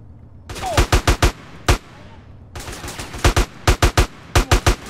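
Repeated bursts of gunfire in Grand Theft Auto: San Andreas, loud and close, with clusters of sharp shots in quick rhythm separated by brief pauses over a low background rumble.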